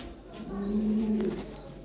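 A pair of high-quality Lahore Siraji pigeons gives a low, throaty coo lasting about a second, close and clear over faint background noise.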